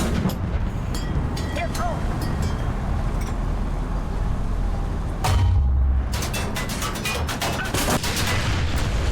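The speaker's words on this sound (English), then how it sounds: "trying to penetrate the front of a Panther with machine guns" Machine gun fire from the War Thunder tank game, aimed at the front armor of a German Panther tank: dense, loud, continuous bursts with sharp impacts amid battle rumble, and a heavier thump partway through.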